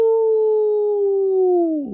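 A voice imitates a wolf howl, one long sustained tone held for about two seconds, loud and close, sliding downward at the end.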